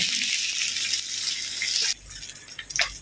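Steady close sizzling hiss of pork grilling on a Thai hot-pot grill, softening partway through while faint clatter continues.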